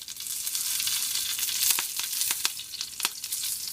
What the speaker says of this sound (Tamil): பருப்பு கடுகு பொரிஞ்சிருச்சு இப்போது நாலு சோம்பு கருவேப்பிலை